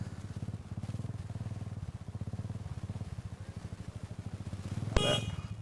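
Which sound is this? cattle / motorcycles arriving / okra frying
motorcycles arriving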